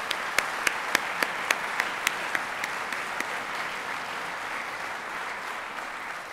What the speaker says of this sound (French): Donc on donnerait une main d'applaudissement pour tous ces membres qui nous soutiennent.